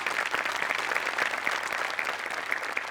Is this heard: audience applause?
yes